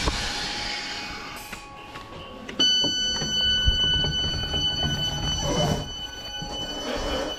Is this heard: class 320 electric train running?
yes